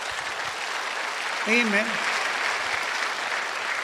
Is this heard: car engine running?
no